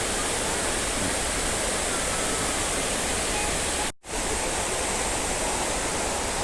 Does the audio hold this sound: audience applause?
no